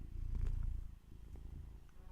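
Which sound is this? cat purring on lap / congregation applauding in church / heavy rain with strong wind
cat purring on lap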